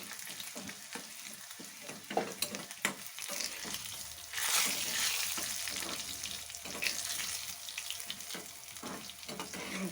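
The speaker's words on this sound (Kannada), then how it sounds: "ಇಷ್ಟನ್ನು ಫ್ರೈ ಮಾಡಿ." Crushed garlic and dry red chillies fry in a pan for a dal tempering, a steady sizzle broken by repeated scraping stirs, rising to a brief louder hiss midway, close and alone.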